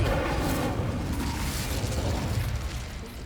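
Incendio fire spell from the Hogwarts Legacy video game, a sustained roaring, crackling blast of flame that holds steady and loud for about three seconds before easing slightly at the end.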